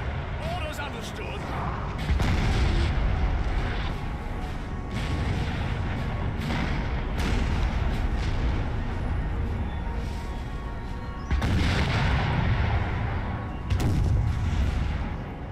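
12-pounder cannons fire in the Napoleon Total War video game, with repeated heavy booms over constant rumbling battle noise, loud and layered.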